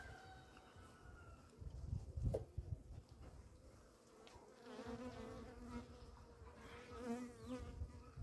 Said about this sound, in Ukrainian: бджолки злі.